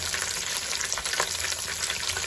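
Whole spices such as bay leaf, star anise, black pepper, cinnamon, cloves, green cardamom and cumin fry in hot ghee for chicken korma, giving a dense, steady, close sizzle with a constant crackling hiss throughout.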